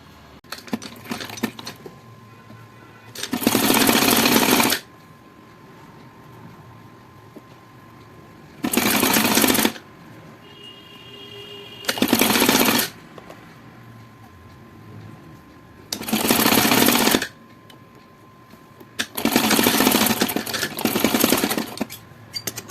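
Electric sewing machine stitching a katori blouse neckline in bursts of a few seconds each, five runs of fast loud whirring separated by quiet pauses with small handling clicks.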